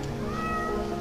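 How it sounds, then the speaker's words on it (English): A cat meows once in a video game, a short, clear, mid-pitched meow over a faint steady background of game sound. "Oh, there's a catty."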